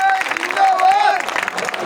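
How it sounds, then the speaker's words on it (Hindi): Audience at an outdoor political rally breaks into brief, dense applause, mixed with crowd murmur and a faint tonal whistle or sound-system feedback. "मैं सभी से गुजारिश करूंगा तालियां बजाकर इनका जोरदार स्वागत किया जाए"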